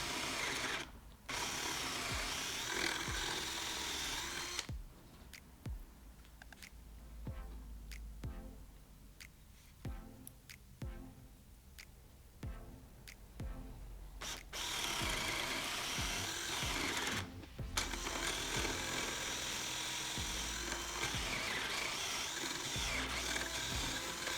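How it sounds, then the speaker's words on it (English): An Ozito 18V brushed cordless drill on speed 2 whines loudly, cuts out, then chugs and stalls in uneven bursts as a 16mm spade bit bores and catches, before spinning up to a steady whine again. "We'll start with the Ozito Power Exchange drill on speed 2, and that's a 16mm bit there."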